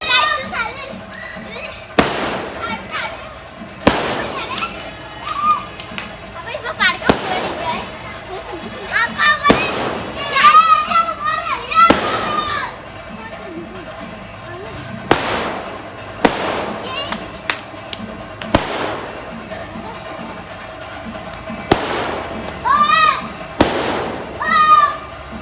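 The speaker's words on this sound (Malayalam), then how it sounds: "നോമ്പ് തുറന്നതിൻ്റെ ശേഷം ഇങ്ങനെ പടക്കം പൊട്ടണ കേൾക്കാം" Firecrackers and fireworks go off after the evening iftar meal, with a string of sharp, loud bangs at irregular intervals over excited children's voices and chatter.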